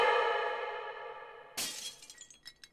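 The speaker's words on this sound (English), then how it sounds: "I heard something shattering." Glass or a brittle object shatters in a video game, one sharp crash breaking through a sustained tonal drone, followed by scattered tinkling fragments and clinks that trail off.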